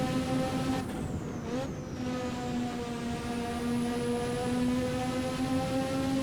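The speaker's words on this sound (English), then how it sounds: "You can hear the turbo valve blowing off as well." Turbo blow-off valve of a McLaren MP4/4 in Assetto Corsa, a quick hissing whoosh cutting in twice over the steady, loud drone of the turbo engine at Spa, no talk.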